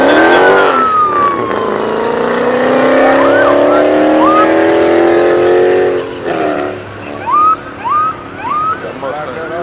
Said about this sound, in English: Look at that Mustang thing.